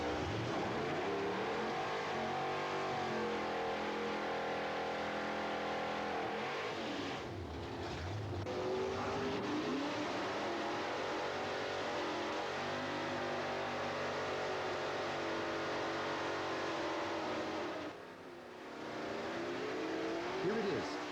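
A Mustang muscle car at an NMCA drag race, its engine roaring loudly and steadily with two brief dips as it eases off and shuts down early.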